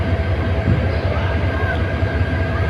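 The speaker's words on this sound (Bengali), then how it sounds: "গাড়িটা আস্তে আস্তে চলে যাবে" A train rolls slowly toward Jamalpur with a loud, steady rumble of wheels and carriages, heard close from on board, with a faint rattle over the low drone.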